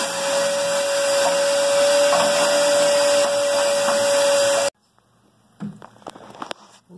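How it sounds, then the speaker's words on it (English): A vacuum cleaner drones loudly and steadily with a high whine for several seconds while cleaning a 50-gallon electric water heater, then cuts off abruptly, leaving quiet room noise and a few soft knocks. "I'm going to go ahead and do the vacuuming."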